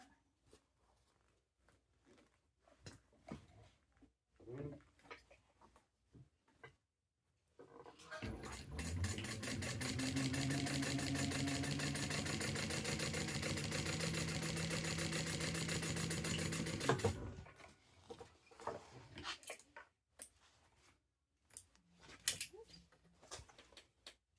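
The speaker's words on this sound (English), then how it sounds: "we're going to top stitch along the base there" A domestic sewing machine runs steadily for about nine seconds while top stitching along the base of a fabric bag, with quiet handling noises before and after.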